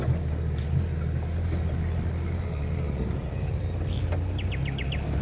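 A short burst of bird chirps near Mount Merapi at Kaliadem, about five quick rising notes, sounds faint over a loud steady engine rumble.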